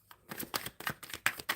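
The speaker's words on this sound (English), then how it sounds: "I'm shuffling for Pastel Dreams" Tarot cards shuffled in short, quick bursts, close and quiet, a rhythmic series of soft card slaps and riffles.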